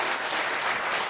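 A studio audience on a French television talk show applauds: dense, steady clapping from many hands, filling the whole short moment with no voices over it.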